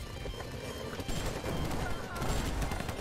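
Enemy exploding in the video game Library of Ruina: a dense, crackling burst of blasts and rattling impacts, loud and continuous for a few seconds, mixed with game music and effects.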